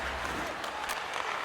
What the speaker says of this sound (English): This crowd is not hype.